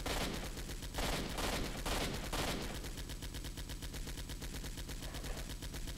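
Sustained automatic gunfire rattles at a helicopter in S.T.A.L.K.E.R. Shadow of Chernobyl with the RMA mod, rapid bursts hammering steadily and loudly, broken by brief pauses early on, then a continuous stream of shots.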